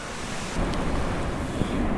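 Ocean waves rolling onto a rocky coast with sea stacks, a steady broadband wash of surf with some wind buffeting the microphone, heard from up on a clifftop.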